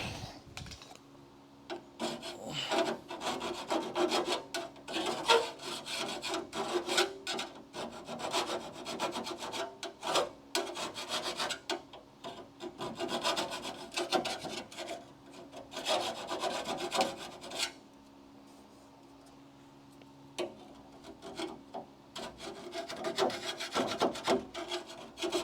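A flat file rasps steadily against metal to remove a burr, in repeated close back-and-forth strokes with a short pause before the filing resumes.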